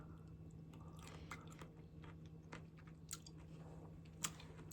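Crisp, irregular crunching bites and chewing of pickled zucchini, close and quiet, over a faint low hum.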